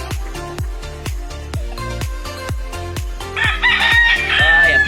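A bantam rooster crowing loud and close over a rhythmic beat of music, with a drawn-out call in the latter part.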